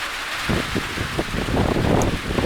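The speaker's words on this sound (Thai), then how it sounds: "ฝนฟ้ามาแรงมากเลย" Heavy rain pouring down outdoors, a dense, continuous patter and wash with fluctuating intensity, fairly close and loud, with no voices.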